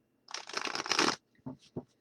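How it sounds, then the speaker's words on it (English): Oracle cards are shuffled by hand in a close, dense burst of papery riffling for about a second, followed by a few softer separate card taps and slides; no talking. "this Oracle cards are harder to shuffle"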